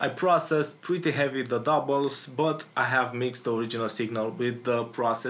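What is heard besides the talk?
No everyday noise stands out behind the speech.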